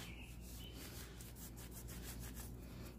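A cloth rubs and wipes steadily over a chainsaw being cleaned, giving a faint, continuous scrubbing sound with soft repeated strokes and no talking.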